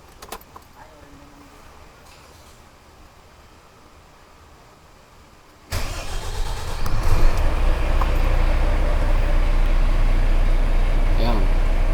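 A truck engine stays silent at first, then starts abruptly and keeps running with a loud, steady, close rumble.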